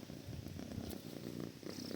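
Cat purring, a soft continuous rumbling purr close by with a steady pulsing rhythm, heard alone and quiet.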